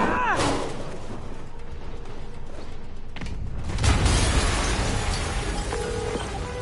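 Explosions in a PS4 video game: a sharp blast at the start and a second heavy boom about three seconds later, loud and rumbling, followed by a lingering low roar.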